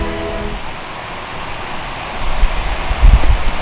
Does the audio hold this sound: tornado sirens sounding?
no